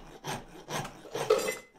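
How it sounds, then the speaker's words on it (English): A horseshoe rasp shapes wood for a tool haft in three long, coarse rasping strokes, each a close, gritty scrape with brief pauses between. "I'm going to pick up these rasps and see what happens."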